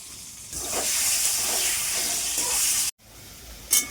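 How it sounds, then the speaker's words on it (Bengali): Cut potatoes fry in hot oil with salt and turmeric for lemon mutton, giving a loud, steady hiss of sizzling that cuts off abruptly, then a brief quieter sizzle with one sharp flare. "আলুগুলোকে আগে ভেজে নেব কিছুটা পরিমাণ লবণ দিয়ে দিচ্ছি আন্দাজ মতো দিচ্ছি হলুদ গুঁড়ো"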